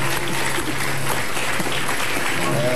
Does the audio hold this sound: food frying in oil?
no